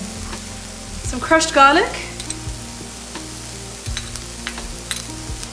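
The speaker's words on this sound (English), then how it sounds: "I want to saute it with my goulash cubes" Onion sautéing with cubes of ostrich goulash meat in a pan, a steady sizzle with a brief louder burst of frying and stirring early on, while a person speaks a few words over it.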